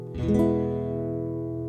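A single chord plucked on a Yamaha NCX5 nylon-string classical guitar with the bass knob all the way up, left ringing, warm and heavy in the low end, sustaining smoothly as it slowly fades.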